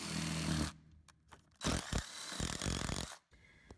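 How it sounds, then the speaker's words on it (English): Bursts of power drilling into a wooden subfloor, a sustained grinding run followed by several shorter drilling passes with brief pauses between, close and loud. "I'm going to try to drill part of this subfloor out"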